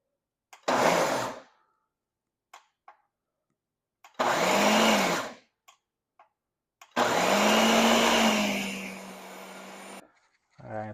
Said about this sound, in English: I'm actually going to process it in the food processor